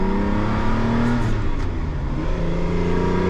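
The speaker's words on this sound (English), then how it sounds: "You hear those cannonball run noises this car makes?" A Lamborghini Countach engine runs loud and close with a steady, rich low drone and a slight swelling rev, no talk over it.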